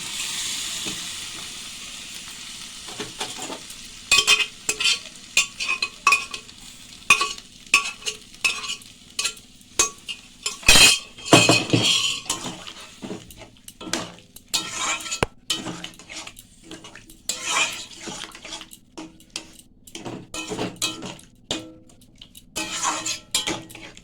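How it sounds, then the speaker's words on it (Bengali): Cooked chickpea dal goes into a hot pan and is stirred, giving repeated close clinks and scrapes of a spoon against metal over a low sizzle, irregular and fairly loud throughout. "ছোলার ডালটা ওর মধ্যে ঢেলে দিলাম"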